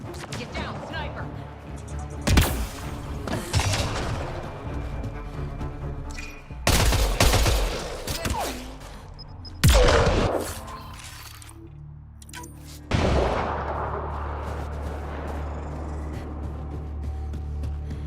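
Sniper rifle shots in Mass Effect: Andromeda on the planet Voeld, four sharp loud cracks several seconds apart with crashing impacts, and people talk in between.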